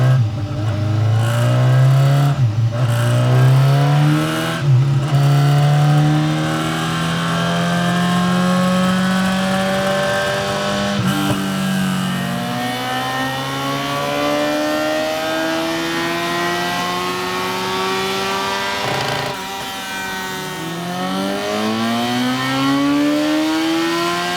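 A 2014 BMW S1000R motorcycle with a decat exhaust revs hard on a dyno, its loud engine note climbing and sweeping through repeated rising pulls over a sustained roar, with no talking.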